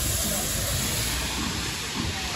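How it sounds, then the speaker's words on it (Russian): L-35 steam locomotive hauling a departing train at a steam locomotive festival in Haivoron, giving off a loud, steady, broadband hiss of escaping steam close by. "Отправляется поезд под локомотивом L-35."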